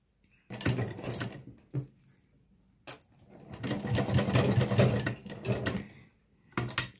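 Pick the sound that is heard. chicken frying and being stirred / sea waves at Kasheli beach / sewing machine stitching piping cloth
sewing machine stitching piping cloth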